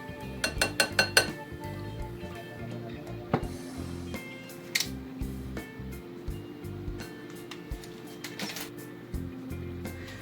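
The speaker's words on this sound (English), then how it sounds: "You're just going to stir these together." Spoon clinking against a glass bowl while sugar and chopped tomatoes are stirred together for tomato basil jam, a quick run of close, bright taps followed by scattered lighter clinks and scraping.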